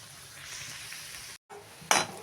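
Bora fritters sizzling in hot oil on a gas flame, a steady crackling fry broken by a brief silence, then a sharp louder burst of hissing as the pan is stirred.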